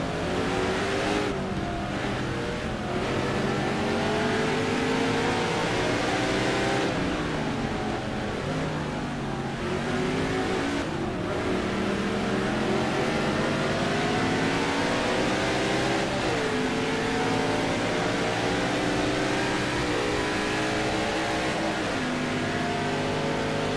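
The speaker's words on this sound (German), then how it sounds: "auch die Corvette, wenn man sie so hört, die ist noch relativ human und sonor in ihrem Klang" A Corvette race car in a racing video game at Kyalami, its engine roaring continuously with rising and falling revs through gear changes, loud and steady throughout.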